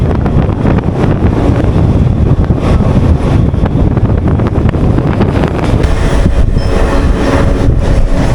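Howrah–Digha local train running across the Kolaghat bridge, a dense steady roar of wheels and wind buffeting close by, loud and continuous with no voices.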